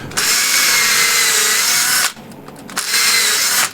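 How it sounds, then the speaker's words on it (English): A power drill whirs steadily into wood at close range, drilling a center hole for a lathe screw chuck, cutting out briefly for a moment before spinning up again and running on. "so I'll just drill it"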